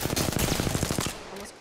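Rapid automatic gunfire in a video game, a loud close burst of about a dozen quick shots lasting around a second before cutting off, with no talking.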